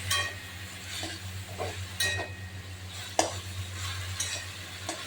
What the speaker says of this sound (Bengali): নেড়ে চেড়ে